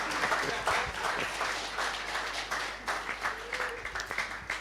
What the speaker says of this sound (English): Please clap for everybody.